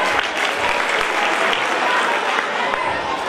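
An audience at a school award ceremony gives steady, dense applause, many hands clapping evenly throughout, with faint voices underneath.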